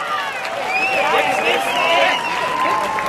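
Race fans at Delaware Speedway cheer and clap in a steady, loud crowd roar with shrill whistles rising over it throughout.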